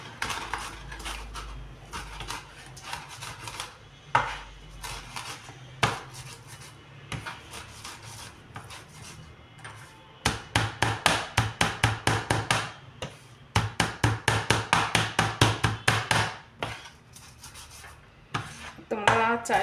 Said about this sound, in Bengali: এটা আমি একটু নোড়া দিয়ে থেতো করে নেব